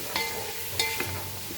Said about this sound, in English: So let it fry.